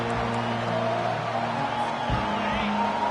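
A home crowd at an American football game roars in a steady, dense wall of noise as the defense plays a third down, loud and unbroken throughout, with indistinct voices blended in.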